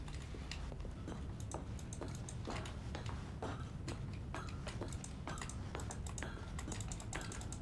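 Buttons click rapidly and irregularly while The Stanley Parable video game is being played. The clicks are sharp and keyboard-like, fairly faint and nearby, over a low background hum with no speech.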